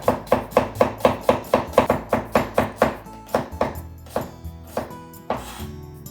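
An onion is sliced thinly with a knife on a cutting board, in a fast, even run of about fifteen close crisp chops that slows to a few scattered cuts near the end.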